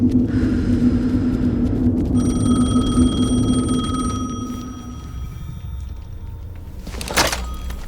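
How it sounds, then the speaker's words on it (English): Telephone ringing in the video game Alan Wake 2, a bright electronic bell tone sounding steadily over a low ambient rumble, then cut off, followed by quiet and a sharp thump. "Phone again."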